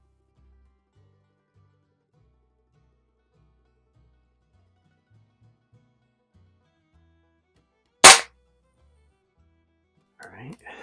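A single sharp air pistol shot, from a Feinwerkbau 65 or Baikal IZH-46M fired at paper targets, cracks loudly and briefly after a long near-silent stretch, followed by faint rustling.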